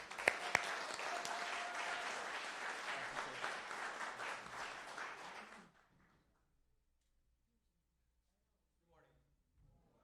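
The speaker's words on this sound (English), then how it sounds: "Let's give Don a round of applause." Audience applause at a Saturday morning labor forum for Don Villar, Secretary-Treasurer of the Chicago Federation of Labor, a dense steady ovation lasting about six seconds before cutting off into near silence with faint movement afterward.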